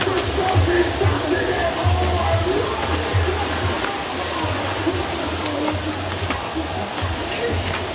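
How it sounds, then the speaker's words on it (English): Rain pouring at Mandeville River, an even, unbroken hiss of falling water with low rumbling beneath, faint murmurs of people blending into the steady downpour. "It was raining in Mandeville River"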